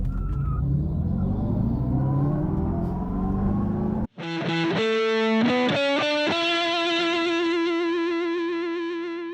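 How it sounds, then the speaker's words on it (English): Dodge Charger Daytona Scat Pack electric muscle car sounding its synthetic exhaust: a low rumbling drone, then a sudden dip and a loud, sustained processed roar with stepped tonal changes, steady and close. "When Dodge set out to design its first electric car, it wanted it to make some noise."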